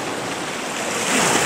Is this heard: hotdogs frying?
no